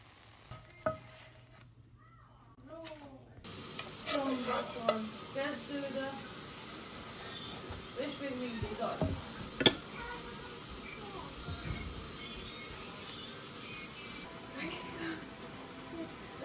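Pancakes sizzle and fry in a pan as one is flipped, with a steady crackle under a person speaking Hungarian and occasional clinks of a utensil.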